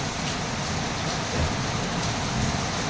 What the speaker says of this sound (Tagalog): May kasamang nagkukulog-kulog.